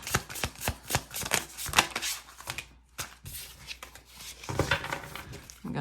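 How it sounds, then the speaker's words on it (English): Tarot cards are shuffled by hand in quick rustling bursts and soft slaps, close and fairly loud, with a brief pause midway before shuffling resumes. "I'm gonna shuffle again so we can get 2 more."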